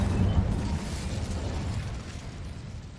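The Incendio fire spell is cast in Hogwarts Legacy, giving a loud fiery whoosh and rumbling burst that starts strong and slowly fades into a low crackling roar. No voices.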